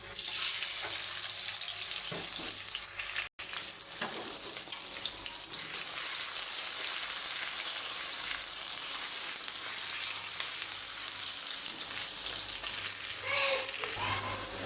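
Three bay leaves torn into six pieces and chopped onion fry in hot oil for a Bangladeshi beef bhuna, giving a loud, steady sizzle that runs without a break except for one split-second dropout, with faint stirring beneath.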